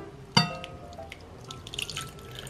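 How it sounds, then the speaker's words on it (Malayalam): Water is poured onto kneaded wheat flour dough in a bowl, heard as one short close splash followed by faint scattered drips and trickles. "ഇനി ഇത് നികപ്പം നിൽക്കുന്ന പോലെ, അതായത് ഇത് മൂടി കിടക്കുന്നത് പോലെ നമുക്ക് ഇതിനകത്ത് വെള്ളം ഒഴിക്കാം."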